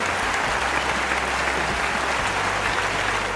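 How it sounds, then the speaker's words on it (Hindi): A dense, loud burst of applause fills the whole moment, an even continuous roar of many clapping hands with no pauses and no voices. "अपने लिए खुद ही तालियां"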